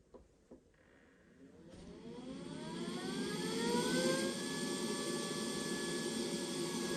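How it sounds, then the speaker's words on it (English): A Neato BotVac robot vacuum's fans power up: a whine that rises steadily in pitch and volume over a few seconds, then settles into a loud, constant hum. "Powering up, the fans are working."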